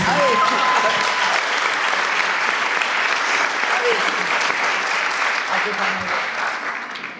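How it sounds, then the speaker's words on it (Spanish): Audience applause at a labor union panel with three women vice-presidential candidates; a steady, full wash of clapping throughout, with a few faint voices and brief whistles or cheers mixed in. "un aplauso para las 3 compañeras"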